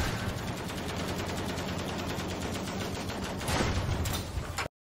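Sustained automatic gunfire and battle noise from the World War II shooter Battlefield V during tank combat, dense rapid shots in a loud unbroken stream that cuts off abruptly at the end.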